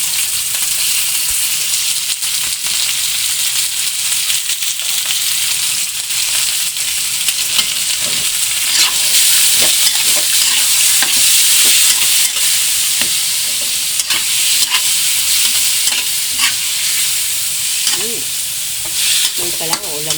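Beef frying in a pan while it is stirred, a loud continuous sizzle with scraping stir strokes that repeat throughout and no talk.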